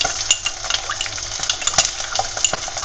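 A utensil stirs mustard sauce in a frying pan with duck breasts, quick scraping and clinking strokes over a soft sizzle, close and fairly loud, with no talk.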